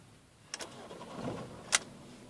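A Ford C-Max car engine is cranked and tried again after switching off, with a few short clicks and a brief burst of starter noise over a low mechanical rumble, heard close up without talk.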